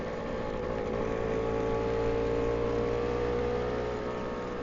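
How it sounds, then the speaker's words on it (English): A 1962 Lambretta Li 150 Series 3 scooter engine hums steadily and close, holding an even drone throughout with no clear gear change or pause. "It's sounding good, this scooter."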